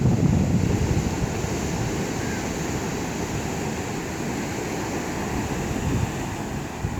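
Sea waves break on the shore at Kanyakumari in a steady, loud roar of surf with wind rushing over the microphone, and no voices are heard.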